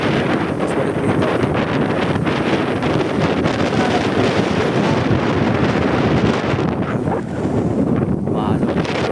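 Strong gusts buffet the microphone throughout, a steady rumbling roar close and loud, with faint traces of voices beneath it, outdoors at a seaside spot.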